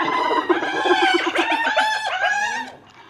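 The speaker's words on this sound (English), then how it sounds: "Even the sound of hyena is similar to laughing." A hyena gives a laughing call, a run of high, wavering, giggling whoops that rise and fall in quick succession, loud and close, then fade out.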